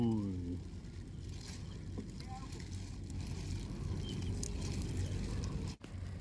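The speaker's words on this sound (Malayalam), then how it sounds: "ബോട്ട് വരുന്നുണ്ട്" A fishing boat approaches across the Kuttanad backwaters, a continuous low droning rumble with water wash that stays fairly close and steady, while a voice briefly speaks near the start.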